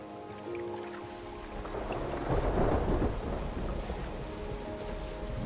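Video game rain in Terra Nil, a steady hiss with a deep rumble of thunder swelling in the middle, then easing back into the downpour.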